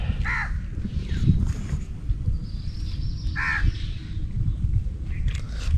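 A rescued crow gives two short, harsh caws about three seconds apart, fairly close, over a steady low background rumble outdoors.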